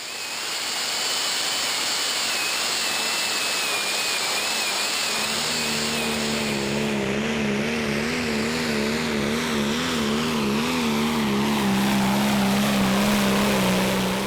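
Prostock-class tractor engine roaring at the 2012 Eurocup tractor pull in Herning, Denmark, a loud sustained roar building in pitch and power as the run goes on.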